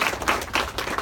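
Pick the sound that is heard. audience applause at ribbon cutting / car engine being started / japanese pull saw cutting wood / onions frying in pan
audience applause at ribbon cutting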